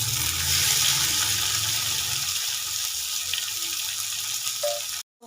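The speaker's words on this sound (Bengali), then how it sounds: "অল্প নুন দিয়ে পেঁয়াজটাকে ভেজে দেব।" Chopped onions with a little salt fry in a wok, giving a steady loud sizzle and hiss that fades slightly toward the end before a brief cutoff.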